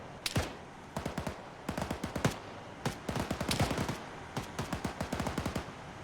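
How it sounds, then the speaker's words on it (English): Sustained automatic gunfire in Arma 3, rapid bursts of sharp cracks in quick rhythmic strings with brief pauses between, fairly close and continuous over a background hiss. "Who's he shooting at?"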